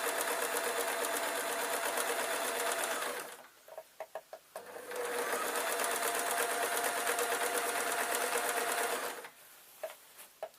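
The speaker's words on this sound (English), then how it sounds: "let me just sew this on" Sewing machine stitching fabric squares onto a rag rug, running in two long steady buzzing stretches with a short pause of light clicks and handling noises between them, close and clear.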